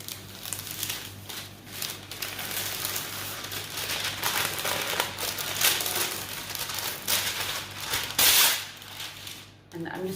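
Parchment paper is handled and crinkled nearby, giving bursts of dry rustling and crackling with a sharper crackle near the end, as a person talks quietly underneath.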